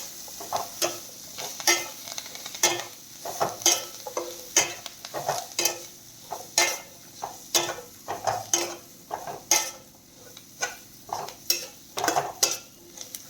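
Spices and chopped coriander being stirred and sautéed in a pan for a green pea kachori filling, with a soft sizzle under repeated scraping taps of a spoon against the pan, close and rhythmic, no talk.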